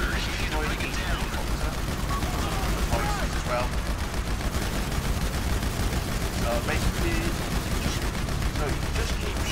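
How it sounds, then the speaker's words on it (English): AP pistol firing rapidly in GTA 5 Online, a dense continuous stream of shots under a constant din, with a voice talking over the shooting. "So just keep shooting with the AP pistol to help the gunner there."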